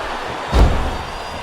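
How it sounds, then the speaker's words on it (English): A pod door opens in the WWE 12 wrestling game with a single heavy thud and slam halfway through, loud and close, fading into a dull arena hum. "that empty pod door opens"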